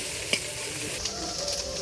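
Catla fish oil frying with onion, spiced with turmeric, salt and chilli, a dense steady sizzle up close with a few sharp utensil clicks and scrapes, no voices.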